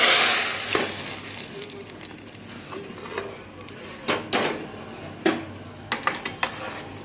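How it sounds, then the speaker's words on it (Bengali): Sizzling tempering poured into dal, a hiss that starts loud and fades, followed by scattered clinks and knocks of utensils against the pot. "এদিকেও ফোড়নটা হয়ে গেছে, ডালে ঢেলে দেবো"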